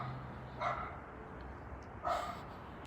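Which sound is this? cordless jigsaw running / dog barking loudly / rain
dog barking loudly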